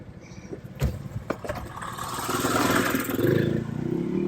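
A motorcycle approaches and rumbles past on the rough Black Bear Pass trail, its engine swelling from faint to loud over a few seconds, with a couple of sharp clattering knocks early on and no talking.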